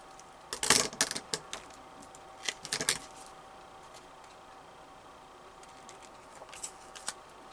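A few quick crisp snips of scissors cutting paper and washi tape, clustered early, then a quiet pause before a couple more faint snips.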